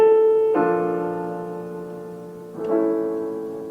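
A piano sounds two sustained chords in a nightclub style, the first ringing out and fading, the second struck about two seconds later and decaying, no voices.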